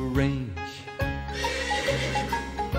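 A horse neighs loudly and close, a wavering whinny that opens the sequence, followed by more whinnying tones over a dense, steady background.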